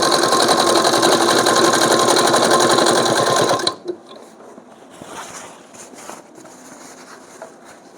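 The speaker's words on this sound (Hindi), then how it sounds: "उसी मार्किंग के ऊपर हम इसमें स्टिचिंग लगाएंगे।" Sewing machine stitching a kurta collar button placket along marked lines: a fast, loud, even mechanical chatter for about three and a half seconds, then it stops abruptly and only faint handling noises remain.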